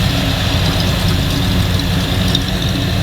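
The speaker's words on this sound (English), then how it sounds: "Sounds like you got a vacuum leak coming from like right here," A 1935 LaSalle car engine with a vacuum leak idles steadily and loudly up close, a deep rumbling throb with a faint hissing edge, no voices.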